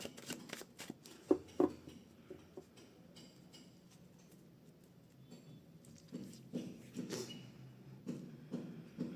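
Tarot cards are shuffled close by at low volume, giving soft irregular riffling pats and clicks in short bursts with quiet pauses, then livelier flurries toward the end.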